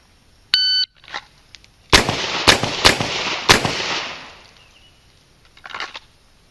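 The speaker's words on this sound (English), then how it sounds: "draw and fire 1 round on one target, 2 on the other, 1 round on the first target" Four sharp revolver shots ring out during a law-enforcement qualification drill, the first alone and three in quick succession, loud and close, each trailing a short echo, preceded by a brief electronic start beep.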